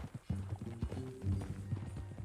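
Horse hooves clip-clop in Red Dead Redemption 2, a steady close gait on a ranch, heard alongside low rumbling game ambience with a voice-like tonal layer.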